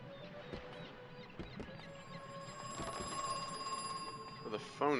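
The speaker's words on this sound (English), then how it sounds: "Well, the phone is ringing back here." A telephone rings in the horror game Crow Country, its tonal bell emerging partway through among faint footsteps and game ambience, growing clearer toward the end.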